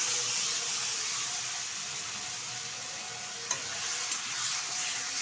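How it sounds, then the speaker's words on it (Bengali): Ground ginger, onion, garlic, cumin and chilli paste, stone-ground, fries on high heat for mutton curry, giving a steady broad sizzle with faint stirring scrapes and a couple of small clicks near the end, no voices. "ভালোভাবে 2 থেকে 3 মিনিট মতো হাই আছে কষিয়ে নেব।"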